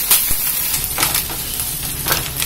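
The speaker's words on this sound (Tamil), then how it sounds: "வெங்காயம் நல்லா செவந்து வதங்கணும். அதுல கொஞ்சம் உப்பு போட்டோம்னா கூட சீக்கிரமா வதங்கிடும்." Onions with a little salt sautéing in a pan for quick nukal (kohlrabi) sambar, making a loud, steady, close sizzle with a few soft stirring scrapes.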